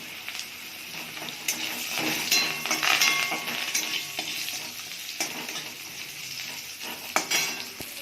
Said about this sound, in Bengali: এবারে সবজিগুলো দিয়ে দেবো।